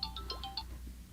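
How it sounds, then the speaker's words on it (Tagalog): A cellphone ringtone chirps in a quick series of bright, repeated electronic tones, fairly faint and close, with no one speaking over it. "kanina pang tumutunog yung cellphone ko"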